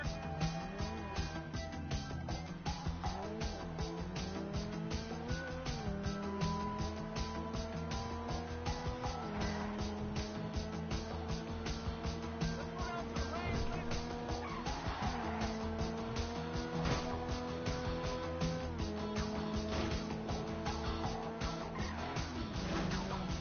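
A car in GTA 5 drives with a continuous loud engine whine that climbs and drops with gear changes, with occasional tire skids throughout.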